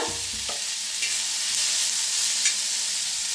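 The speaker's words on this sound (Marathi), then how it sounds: "आता थोडंसं तेल वतूया, तेल वतून भाजून घेऊया" Ingredients roasting in a little oil in a pan give a loud, steady sizzle with faint stirring scrapes throughout, and nobody speaks.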